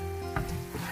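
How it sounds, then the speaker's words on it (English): A garlic cream cheese sauce in a pan is stirred, giving a close, soft sizzle with a brief scrape of the spoon partway through, and no voices. "We'll just stir this some more."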